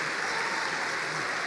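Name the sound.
church congregation applauding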